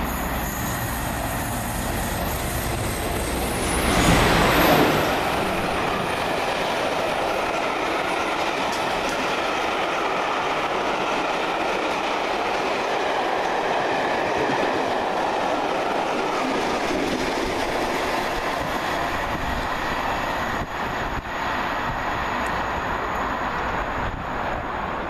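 An Arriva Trains Wales service pulls into Telford Central station with a long rolling rumble of wheels on rails, a brief loud swell early on, then steady wheel noise and faint squeals as it slows.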